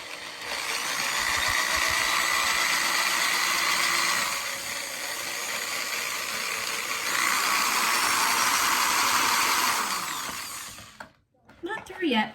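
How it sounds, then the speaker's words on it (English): A drill bores a hole through a plastic chase-light toy held in the hand, producing a sustained, close, grinding whine that eases briefly midway, builds again, and then stops after about eleven seconds, followed by a few small clicks. "I'm gonna do a drill, or drill a hole rather."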